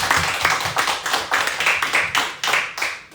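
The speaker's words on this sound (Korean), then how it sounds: "오늘 우리에게 은혜의 말씀을 주신 하나님께 영광의 박수 올려드리겠습니다" A church congregation clapping together in a revival service, loud close applause pulsing in a quick regular rhythm, roughly two surges per second, with no talking over it.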